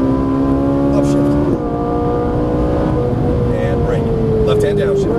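A Ferrari 458 Italia accelerates on a track, its engine note rising steadily in a loud whine and briefly dropping at an upshift near the midpoint, with an instructor talking over it.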